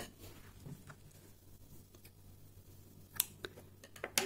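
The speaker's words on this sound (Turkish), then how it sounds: "bir zincir çektim ve buradan ipimi kesiyorum" Scissors snip crochet yarn during work on a daisy-motif baby dress, a few quiet, sharp clicks near the end after soft handling noises, close and faint with no voices.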